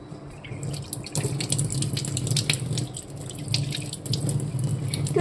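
A kitchen tap runs steadily as papaya is washed under it, a close, continuous gush of water with splashing and spattering against the fruit and sink.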